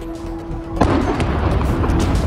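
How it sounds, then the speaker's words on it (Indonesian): A sudden loud blast marks a Houthi drone launched from Yemen exploding in Eilat, with a heavy broadband roar that stays up and keeps rumbling with chaotic noise after the initial hit. "drone yang diluncurkan oleh Houthi di Yaman meledak di Eilat"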